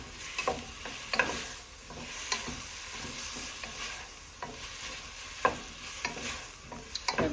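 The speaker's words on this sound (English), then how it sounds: "I've given it a nice stir." Food frying in a pan with only a drop of oil, faint and close, with repeated spoon stirs and light scrapes over a soft sizzle, no voices.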